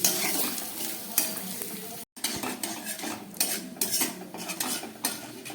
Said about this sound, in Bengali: এবার আমি খুব ভালো করে এটাকে ভেজে দিচ্ছি।